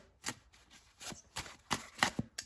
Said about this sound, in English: This is supposed to be best shuffle sound.